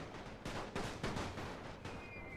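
Artillery bombardment in a Great War video game sounds as a series of deep, heavy booms and blasts, four or five loud thuds spaced irregularly over a constant rumbling battle din.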